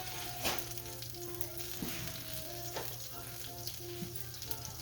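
Hash browns from a 4-pound frozen bag sizzle steadily in a heated skillet, a close, continuous frying crackle with occasional sharper pops and scraping stirs, no voices.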